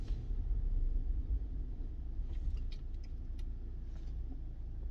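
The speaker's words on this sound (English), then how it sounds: "And as you can see, the motor is still running" A BMW engine idles at a complete stop with the auto start-stop disabled: a low, steady rumble in the car's cabin, with a few faint ticks and clicks on top.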